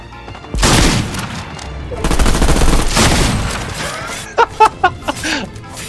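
Bursts of gunfire from a Fortnite match during a zombie-themed Halloween mode, with broadband shots starting early and a dense volley mid-clip, then several sharp separate reports near the end.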